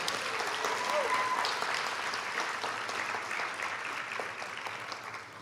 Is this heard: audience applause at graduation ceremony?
yes